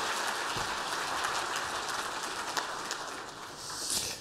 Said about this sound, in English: Please, a big round of applause for Mikko Hypponen.